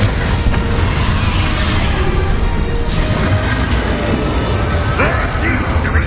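A Bombarda spell in Hogwarts Legacy sets off loud, dense crashing blasts amid a busy fight with a dragon, under a constant roar of battle noise. Voices talk and shout through it.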